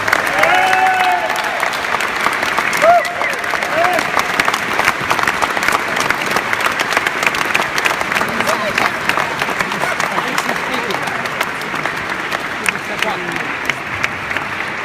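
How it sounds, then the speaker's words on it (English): An audience applauds a speaker at length, a continuous wash of clapping with a few voices and cheers audible near the start, holding steady before fading a little. "Big round of applause for my great friend and brother, Peter A. Hochfelder."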